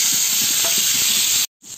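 A fish head coated in salt and turmeric sizzles loudly and steadily in hot oil, close up with no talking, until the sound cuts off abruptly near the end.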